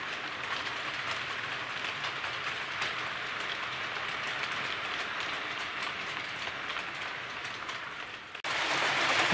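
A Heljan class 33 diesel model train runs over ballast laid on cork, giving a continuous rumbling roll with fine rhythmic clicking, then an abrupt shift to a brighter, louder rush near the end.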